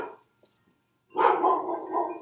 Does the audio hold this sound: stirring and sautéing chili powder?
no